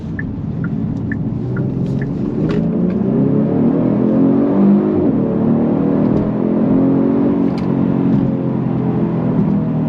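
A 2023 Genesis G70 3.3T Sport Prestige accelerates hard in Sport Plus mode on open road, with a steady, rising engine drone and rumble heard loud from inside the cabin over continuous road noise.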